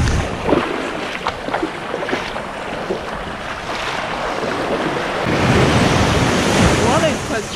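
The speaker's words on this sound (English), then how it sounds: "Water is quite strong here." Strong ocean surf rolls onto a beach in Oaxaca, Mexico, a broad continuous roar of breaking waves swelling louder toward the end, with wind buffeting the microphone.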